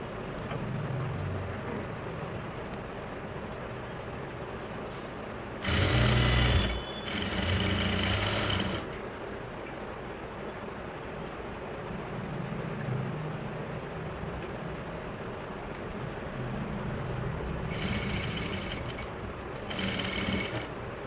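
A sewing machine stitches suit lining in short whirring bursts, two close together early on and two more near the end, over a quiet room background.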